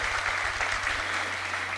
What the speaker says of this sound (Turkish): Alkışlar da Neslihan Yılmaz'a gelsin efendim